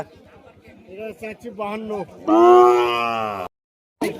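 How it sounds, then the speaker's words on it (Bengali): Bulls lowing loudly nearby at a cattle market in Rajshahi, a long drawn-out moo following shorter calls, amid a busy outdoor market atmosphere. "এখানে কিন্তু ছোট বাজেটে সার গরুগুলো ওঠে"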